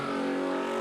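A car engine holds a high steady rev during a burnout competition at Red CentreNATS, a sustained buzzing drone heard from a distance for under a second.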